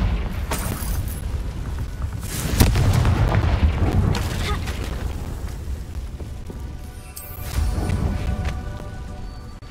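Booming Bombarda and Confringo spell explosions in the Hogwarts Legacy video game rumble loudly in two heavy bursts, separated by a stretch of fading, debris-like noise.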